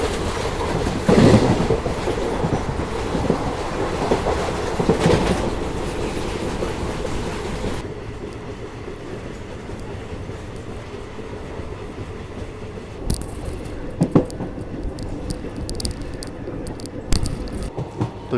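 ICF passenger coaches of an express train rattle and clatter over the rails at speed, a steady loud rolling roar with rhythmic clickety-clack that dips quieter midway and then picks up again with sharper clanks.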